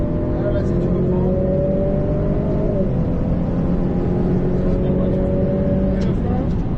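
Ferrari F8 Tributo on the Nogaro race track, heard from inside the car as the engine builds gradually in a loud, continuous drone with a shifting pitch and cabin rumble.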